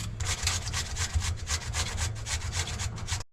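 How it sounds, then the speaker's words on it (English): Two potatoes rubbed against a grater in a small motorhome kitchen, fast steady rasping strokes close up and fairly loud, running without pause before stopping abruptly at the end. "let's grate these 2 potatoes and have them reserved"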